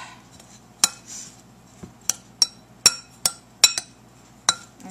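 Metal utensils clink sharply against a dish while artichoke ingredients are mixed, a series of about ten separate bright taps and scrapes at an irregular rhythm, close and moderately loud over a quiet room.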